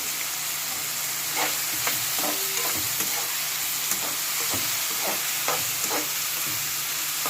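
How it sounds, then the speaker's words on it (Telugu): Curry ingredients fry in a pan with a constant oily sizzle, while a spoon stirs and scrapes at an irregular rhythm, giving a series of close clinks and scuffs. "బాగా వేయించుకోవాలి."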